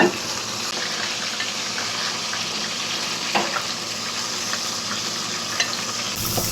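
Steady, dense sizzling of rohu fish pieces frying in hot oil, close and continuous, with a few faint clinks near the end.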